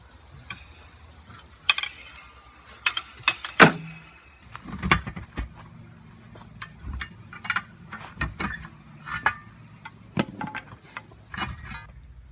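Metal lock ring being worked off a truck wheel, a series of sharp clanks, taps and scrapes of metal on metal at irregular intervals, close by and with no talk.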